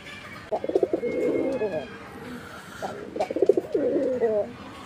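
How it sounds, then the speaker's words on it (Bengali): A pair of white Deshi Raj Golla pigeons coo in two rolling, throaty bursts, close and clear, with someone speaking faintly in the background. "তো প্রিয় দর্শক, ডাকটা আপনারা দেখতে পাচ্ছেন আলহামদুলিল্লাহ, অনেক সুন্দর ডাকের কবুতর।"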